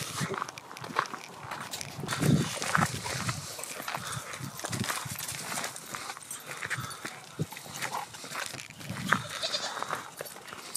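Goats on a homestead move about close by, with hooves shuffling and clattering over ground and faint bleats mixed into a busy, continuous patter of animal movement.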